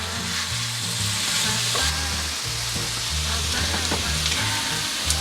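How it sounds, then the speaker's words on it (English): Sliced zucchini and peppers sizzle and fry in a pan, a continuous crackling hiss with low scraping and stirring knocks that recur through the clip. "You want to let this cook until your zucchini is a little tender."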